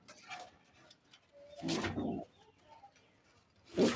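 Close, soft cooing from wild pigeons in a loft, two or three low rolling calls with rustling and quiet gaps between them.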